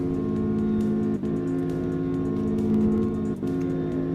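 A tuned Honda S2000 engine holds near redline at high speed, a loud, steady, close droning whine with two brief dips in pitch and level, and no talking.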